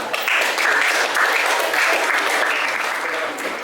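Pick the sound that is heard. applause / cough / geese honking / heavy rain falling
applause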